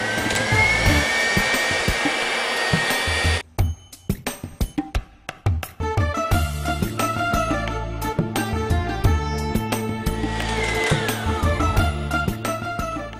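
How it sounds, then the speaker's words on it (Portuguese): An electric stand mixer beats cake batter for a bolo indiano at high speed with a steady loud whine and hum, interrupted by a brief stretch of clicking and bursts before it runs steadily again. "E agora eu vou aumentar a velocidade da batedeira."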